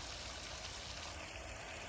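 Water pours from a small drain pipe into a creek, a steady, soft broadband trickle and splash running continuously at low level with no voices.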